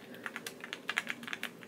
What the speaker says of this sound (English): I just got this like creamy keyboard.